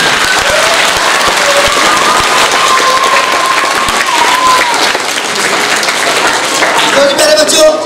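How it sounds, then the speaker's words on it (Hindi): A large audience of children gives loud, sustained applause for themselves, dense clapping holding steady throughout with crowd noise and a few voices rising through it. "तो और से तालियां बजाएं अपने लिए"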